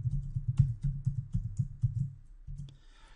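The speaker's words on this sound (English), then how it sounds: "I'm just going to go ahead and type in the username and password." Rapid keyboard typing as a username and password are entered at a computer login screen, a steady run of close, soft clicks and keystrokes that pause briefly near the end.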